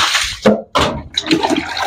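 Water poured and splashed in several quick bursts across a concrete pig pen floor to wash off droppings, loud and close, with short gaps between throws.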